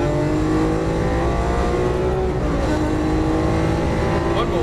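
Lamborghini Aventador LP700-4 under heavy throttle on a Las Vegas race track, a loud, sustained high-revving V12 roar with climbing engine pitch, close and dominant throughout.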